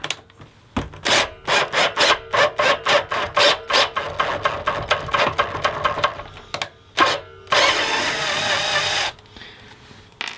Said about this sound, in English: So then what you do is you drill it out.